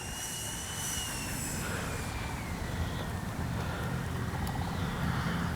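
An FMS 80mm F-86 Skyblazers RC jet's electric ducted-fan motor runs steadily as a continuous broadband whoosh with a faint high whine, holding a constant level throughout with no talking.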